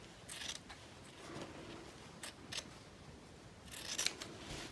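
Scissors snip through excess quilt fabric around the edge of a secured quilt topper, giving a few quiet, scattered cutting and rubbing sounds at close range with no talking.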